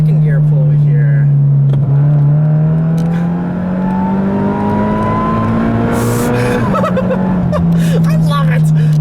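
Supercharged Scion FR-S with an automatic gearbox pulling hard in second gear, a loud close engine note rising steadily then dropping at the shift, with a voice laughing and talking over it.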